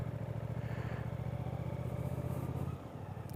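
A 2024 Suzuki GSX-8S motorcycle engine idles with a low, even, pulsing thrum, close and steady, before a brief dip and a click at the end.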